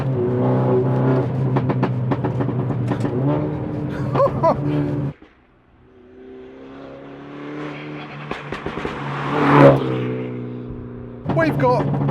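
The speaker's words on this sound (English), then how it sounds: "We've got pops, whooshes" A modified Mini F56 JCW engine revs hard and accelerates loudly, cutting out abruptly, then builds again with crackling exhaust pops and whooshes as a voice exclaims over it.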